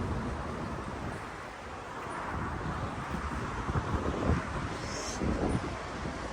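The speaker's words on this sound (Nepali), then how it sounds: "आज कस्तो हावा चलेको छ" Strong gusty wind blowing outdoors near N Seoul Tower in Seoul, a loud, continuous roar buffeting the microphone with rumbling surges, no talking.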